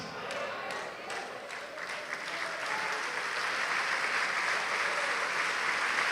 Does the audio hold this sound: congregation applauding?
yes